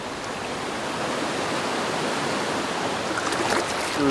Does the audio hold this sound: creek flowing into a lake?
yes